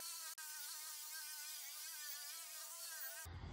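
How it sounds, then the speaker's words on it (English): A wire wheel brush spins against new wood to tear out the soft fibers, giving a steady high-pitched whirring buzz with a brief dropout near the start and an abrupt stop at the end. "I'm grabbing this wire wheel brush, which is the most abrasive, and it's gonna go over this wood and tear out a lot of the soft fibers"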